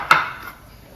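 A single sharp metallic clatter from an idli cooker and its plates being handled, short and near, then a fading ring and quiet.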